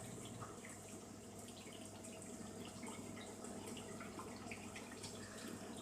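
A newly installed dishwasher filling with water, a steady, continuous rushing hiss with a low hum underneath, holding at an even level throughout.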